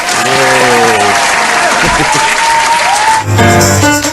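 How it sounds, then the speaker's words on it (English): Loud applause from a crowd fills the space, with tonal music playing underneath and briefly swelling near the end. "let us give Chief Engineer Ronald de los Reyes a big round of applause"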